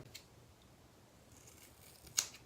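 Scissors snipping hair during a home haircut, a faint quiet stretch ending in one crisp close snip near the end.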